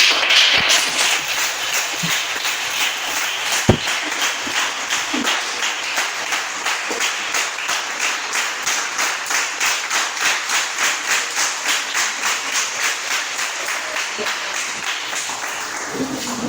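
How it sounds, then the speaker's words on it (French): A church congregation at a praise and worship service applauds for mothers, with sustained, fairly even clapping from many hands that keeps a loose rhythmic pulse and fills the whole stretch. "Acclamons pour les mamans."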